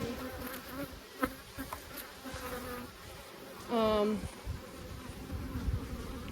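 Swarm of honeybees droning around a hive, close and continuous, with a louder rising whine as one bee passes near and a few light bumps.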